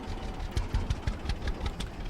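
An old-school tractor engine idles in the Farmer's Dynasty farming game, a steady loping chug with regular knocking pulses, close and moderately loud with no talk.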